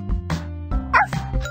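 A puppy's high yips and barks in the Dora the Explorer game Dora Find Those Puppies, several short bursts in quick succession, close and clear over a steady electronic backdrop.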